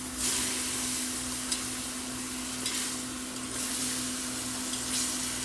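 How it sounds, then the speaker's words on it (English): Shrimp stock is poured slowly into a simmering smoked tomato shrimp chowder, giving a soft, steady sizzling and bubbling hiss with a constant low hum beneath, quiet and close. "And now we will slowly add in our shrimp stock"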